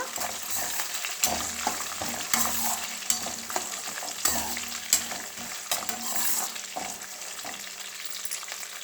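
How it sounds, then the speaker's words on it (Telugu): Peanuts frying in a pan for coconut rice, with a steady close sizzle and repeated scraping strokes of a spoon stirring them, and no talking. "వేరుశనగ గుళ్ళు అయితే బాగా వేగాలండి"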